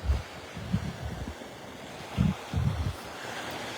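Storm surge waves and wind at Naples in Collier County, Florida, with low, muffled gusts buffeting outdoors and irregular dull thumps of surging water breaking close by.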